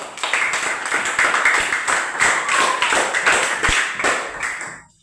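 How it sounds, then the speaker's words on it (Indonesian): Schoolchildren in a primary school classroom clap together in a loud, sustained burst of rhythmic applause that fades out at the end. "Tepuk tangan dulu."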